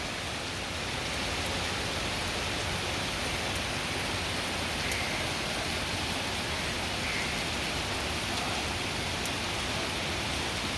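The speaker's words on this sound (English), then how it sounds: "It's raining heavily" Heavy rain pours steadily outside a home just after starting, a dense, even hiss that runs unbroken throughout with no voices over it.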